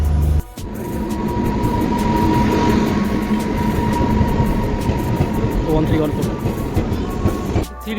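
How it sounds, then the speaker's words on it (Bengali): A crowded station platform as a passenger train bound from Dibrugarh to Kanyakumari pulls in, its loud rolling rumble and wheel clatter filling most of the stretch, with crowd voices mixed underneath. "এই যে ট্রেনটা এখন এলো, সেই ট্রেনটা ডিব্রুগড় থেকে কন্যাকুমারী যাবে"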